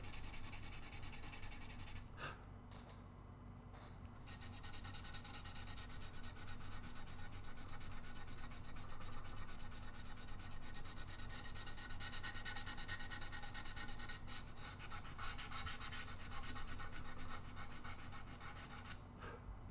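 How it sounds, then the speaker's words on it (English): Guitar wood bevels are sanded by hand in a steady, continuous rasping rub, close and fairly quiet, with only brief breaks in the scraping rhythm. "The problem with beveling is you have to sand all the bevels."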